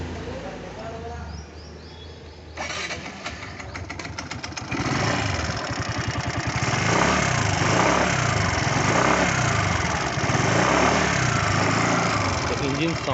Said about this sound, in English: Let's fire up the engine now.